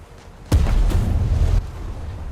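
Battleship main guns firing at the Yamato in a naval combat video game: one heavy, deep boom lands abruptly and rumbles for about a second before dropping back to a low background hum.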